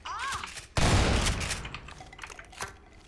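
Automated turret gunfire in Half-Life 2: Episode One erupts suddenly as a dense, loud burst and rattles on with a sustained crackle that slowly tapers, preceded by a brief electronic warble.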